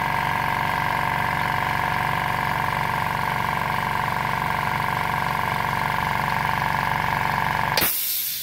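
A motorcycle engine idles steadily after its thermal protector has been repaired, a close, even mechanical hum that runs unchanged for about eight seconds before cutting off abruptly.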